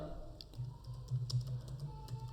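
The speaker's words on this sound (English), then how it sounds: "So here we will type" Fingers tap a computer keyboard in quick, soft clusters of keystrokes, faint and close over a steady background hum.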